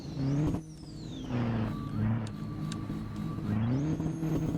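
A car engine revs in a Roblox Thai racing game, its pitch climbing and then dropping through several gear changes, loud and close, with a brief quieter dip between pulls.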